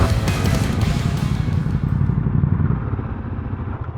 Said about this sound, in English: You can hear some engines coming up behind me